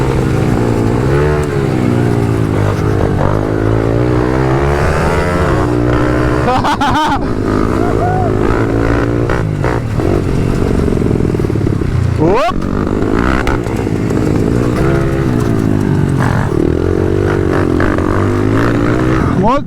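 Pit bike motorcycles racing in qualifying at the Montecchio round of the Italian pit bike championship: high-pitched engines rev and rise and fall continuously, loud and close, with a few sharp passes and faint talk in the background.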